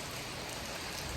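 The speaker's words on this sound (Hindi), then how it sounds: "बारिश हो रही है बहुत ज़्यादा" Heavy rain pours steadily on a morning, a dense, even hiss that is quiet and continuous with no voices.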